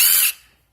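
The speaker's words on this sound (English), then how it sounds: "1/8 inch drill bit." A power drill spins a 1/8 inch bit through aluminum gutter material in one short, bright, high-pitched whir that cuts off abruptly after a fraction of a second.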